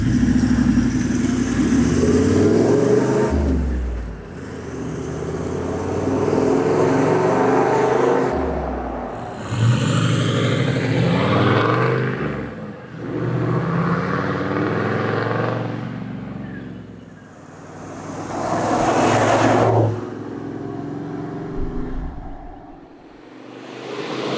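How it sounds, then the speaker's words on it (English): Toyota Land Cruiser diesel with a straight-pipe DPF-back twin exhaust and no mufflers, a loud deep engine revved up and down repeatedly, each rise swelling into a throaty roar before dropping back to a rumbling idle, heard close. "So we've got a cruiser out the back, it's got one of our DPF back twin systems on it."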